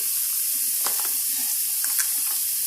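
Peppers and butter sizzle steadily in a frying pan, a continuous bright hiss with a few soft clinks and stirring touches, close and alone without talk.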